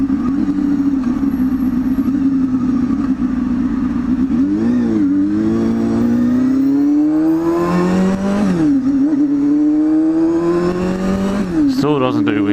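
A 250cc motorcycle engine revs continuously while being ridden, its pitch rising and falling through several gear changes, loud and close throughout with wind noise, and a voice speaks over it.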